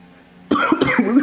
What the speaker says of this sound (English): the way I'm coughing makes it sound like I smoke